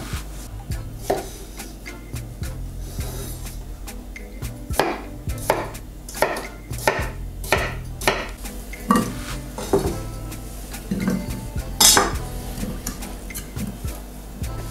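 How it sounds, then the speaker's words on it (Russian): A knife cutting cucumber into small cubes on a board, a series of sharp close chops in an uneven rhythm with some clinking of kitchenware. "Огурчик. Режем квадратиками."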